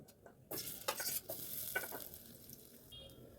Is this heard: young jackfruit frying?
yes